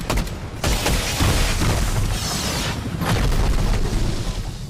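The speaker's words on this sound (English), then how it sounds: "we're getting a full-on airstrike the size of a POI" A huge Fortnite airstrike blast in the video game, a loud, sustained booming roar with rumbling crackle that swells again partway through, filling the whole stretch with no pause.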